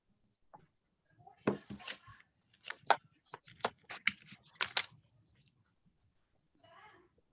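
Coloring pencil or crayon strokes on paper while shading a drawing, a run of quick close scratchy rubbing bursts in uneven rhythm, quiet, with brief pauses between strokes.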